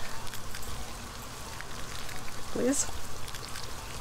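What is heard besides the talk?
rain in a video game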